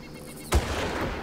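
A single gunshot fired in the video game Far Cry, one sharp close report with a short fading tail, standing alone against a quiet background hum.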